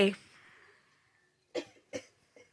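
A person gives one sharp cough followed by a short breathy tail, then after a pause two more quick coughs and a faint trailing one, close and fairly quiet in an otherwise still room.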